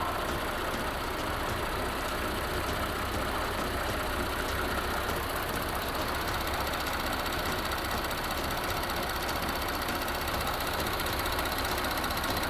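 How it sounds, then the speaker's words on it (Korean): An Audi Q8 55 TFSI quattro engine idles steadily nearby, an even mechanical hum with a faint rhythmic ticking, continuous and unchanging. "엔진 소리 일정하네요."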